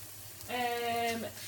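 Chopped bacon from two packets sizzles and crackles in a frying pan at home, a steady close fry that swells in after a quiet start and holds for about a second.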